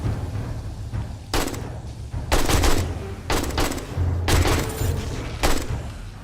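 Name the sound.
AK rifle gunfire in 7 Days to Die video game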